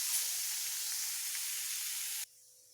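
Bitter gourd pieces fry in a pan with a steady, close sizzle and hiss that runs unbroken and then cuts off abruptly, leaving quiet.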